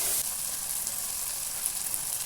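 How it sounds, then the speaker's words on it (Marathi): A spice tempering (phodni) sizzles in hot oil for dal. The frying hiss stays steady and close throughout and no one speaks. "आता आपली इकडे फोडणी पण रेडी आहे"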